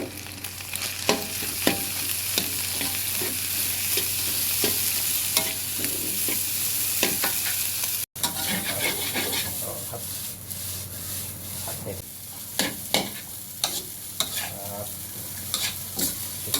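Pork and meatballs stir-fry for fried rice, with a continuous sizzle under frequent scraping and clacking strokes of a spatula in the pan, close up and with no talking.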